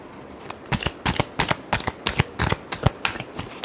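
A deck of tarot cards is shuffled close up, giving a quick series of crisp riffling bursts in an uneven rhythm.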